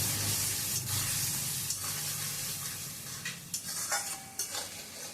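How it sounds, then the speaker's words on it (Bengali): Dried fish curry with prawns is stirred in a hot pan, a steady close sizzle with scraping spoon strokes and a few light metallic clinks toward the end. "এবার আমি চিংড়ি মাছগুলো দিয়ে দেবো একটু নেড়ে চেড়ে চিংড়ি মাছগুলো দিয়ে দেবো"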